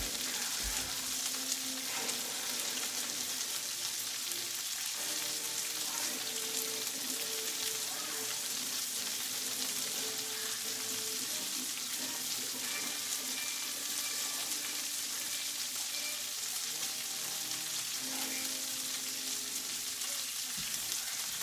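Tomatoes cook in a pan for spaghetti carbonara, a steady soft sizzle and crackle with occasional stirring clinks, faint and continuous throughout.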